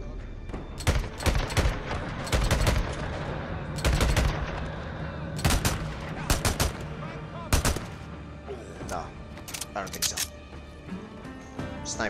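Sniper rifle and other gunfire in the Days Gone game. Loud, sharp shots ring out in separate bursts over an ambient game bed, and a voice talks in places.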